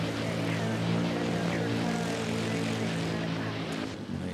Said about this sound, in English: let's catch this Air Asia arriving from Kuala Lumpur